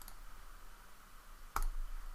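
A single sharp mouse click on an OK button, a brief near tick standing alone in a quiet room after a faint earlier click.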